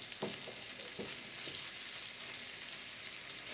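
Steady, crackling sizzle of minced meat frying in a hot pan, with a few louder pops early on and a constant bright hiss throughout.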